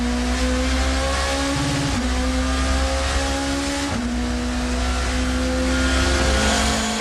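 A 1990s touring car at the Russell chicane rumbles across the gravel trap and rejoins the track, engine droning loud and steady with gear-change dips in pitch and continuous crunching road noise.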